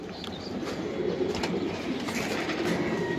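Green-necked pigeon of an old line, kept among loft pigeons, with soft cooing and bird sounds over a steady broadband hum and scattered clicks.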